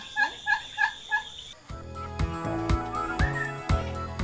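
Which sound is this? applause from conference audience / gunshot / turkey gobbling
turkey gobbling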